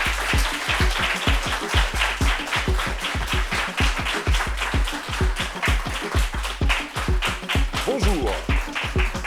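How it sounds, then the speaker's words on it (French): Studio audience applauding a guest on a talk show set, dense rhythmic clapping that is loud and sustained throughout, with a brief voice near the end. "Applaudissements pour elle, s'il vous plaît."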